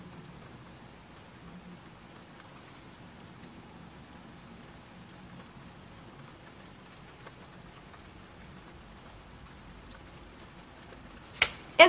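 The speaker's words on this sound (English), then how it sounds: "you can probably hear the rain now" Steady rain falls outdoors as a soft, even hiss that holds through the whole stretch, faint and continuous, with a couple of sharp close knocks at the very end.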